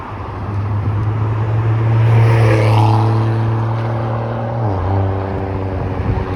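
Loud passing cars on Dundas Street East in Mississauga's Applewood neighbourhood, a steady close engine drone with rising and shifting revving tones as vehicles go by, heard from the roadside while walking.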